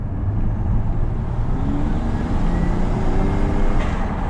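Interior or close road noise from a car with a 1JZ-GTE turbo engine and a new intake, driven at night; a steady, loud engine drone with a faint rising whine running through it throughout.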